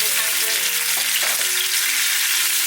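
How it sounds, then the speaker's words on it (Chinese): Garlic slices and scallions stir-frying in hot oil in a wok give a steady, loud, dense sizzle throughout, with brief clatters of stirring partway through. "起锅热油，把蒜片跟葱放进来炒香，再把番茄放进来炒出汤汁"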